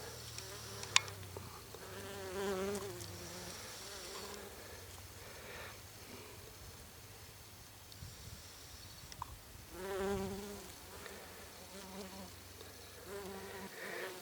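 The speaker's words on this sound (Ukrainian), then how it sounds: "тут така кількість бджіл, що вони заважають одне одній і виходить так, що по дві бджоли на одну квітку" Honeybees crowd late-season nectar flowers, their buzzing swelling and fading as individual bees fly close past, over a faint continuous background hum.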